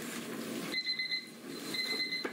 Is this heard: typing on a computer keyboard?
no